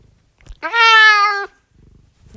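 A cat gives one long, clear, drawn-out meow, close and loud, with faint room sounds and a little soft noise before and after.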